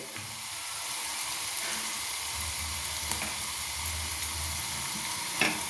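Carrot and orange peel fry in a small amount of oil over a low flame, giving a steady, close sizzle with an occasional soft stir. No voices are heard.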